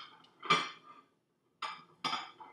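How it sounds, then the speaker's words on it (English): Small hot metal pans lifted out of a microwave after baking chocolate cake, a few sharp clinks and clatters in separate bursts with a brief silent gap, close up and fairly loud. "So I'm going to pull them out of the microwave really quick."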